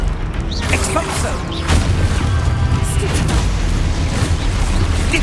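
A spell being cast in Hogwarts Legacy, the video game, sets off a loud explosion with a heavy low rumble and crashing debris, layered over ongoing game sounds and music.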